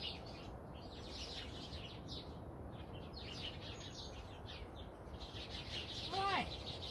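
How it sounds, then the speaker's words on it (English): Sparrows chirping outdoors beside a car park, quick scattered tweets at moderate distance over steady background noise, with one clearer call near the end. "The sparrows."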